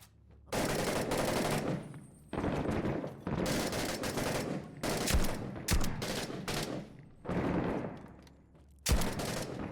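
Sustained automatic weapon fire in the combat game Six Days in Fallujah comes in several long bursts separated by short pauses, loud and close, with a few sharp single shots between them and no talk.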